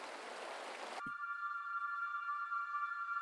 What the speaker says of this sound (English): some river flowing, water noises